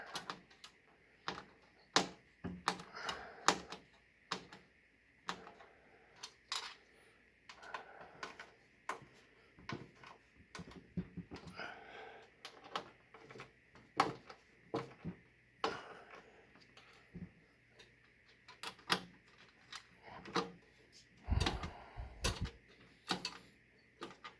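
A screwdriver snugs down motherboard standoffs, giving sharp irregular clicks and ratcheting ticks in scattered bursts, close and fairly quiet, with small handling knocks in between.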